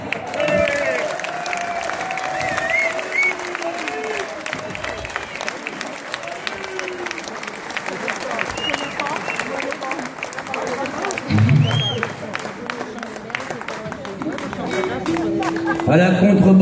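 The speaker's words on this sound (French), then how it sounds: "je vous demanderai d'applaudir très chaleureusement le médaillé d'or de l'école de batterie de Chantajas, Jean-Marie Tréard." Concert audience applauding a gold-medal drummer at a benefit show in Saintes, a steady wash of clapping from a sizeable crowd lasting over fifteen seconds, with cheers, chatter and a voice speaking over it throughout.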